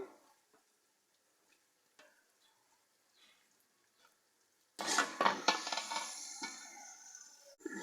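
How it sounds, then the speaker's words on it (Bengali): Meat for biryani dropped into a hot pan with tomato sauce: after faint scattered clinks, a sudden loud sizzle bursts in and keeps frying with spatula scrapes and stirring, close by, no talking. "তো এখন আমি মাংসগুলো দিয়ে দিলাম"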